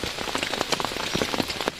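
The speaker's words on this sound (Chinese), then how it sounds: "现在外面哗哗的在下大雨" Heavy rain drums on a cheap tent pitched in a bamboo forest, heard from inside as a dense, steady patter with scattered louder drops striking close by.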